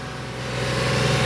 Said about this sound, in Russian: поставим сейчас двигатель на обороты, пускай промывает машину